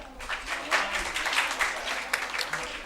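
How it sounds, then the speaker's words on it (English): A conference audience claps for the poster prize winners, a thinner scattering of individual claps with audible separate hand strikes that rises and falls in density over a few seconds. "I request everyone to clap, please."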